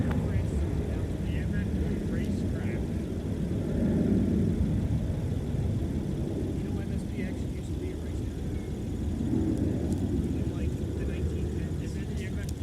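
Airplanes depart together on parallel runways at MSP Airport, a broad distant jet roar swelling and fading in waves while people chat over it.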